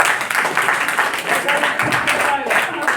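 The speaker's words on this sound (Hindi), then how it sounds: "ताली बजा दो इसके लिए" Students in a maths class clap together, with close, brisk, uneven clapping that runs for a few seconds and a voice talking briefly over it.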